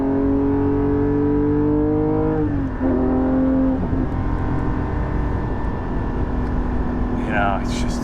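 A Porsche 718 GT4 fitted with a Soul exhaust, heard from inside the cabin while driving: a loud, steady engine drone with gliding tones as it shifts and changes speed, and a faint chirp near the end.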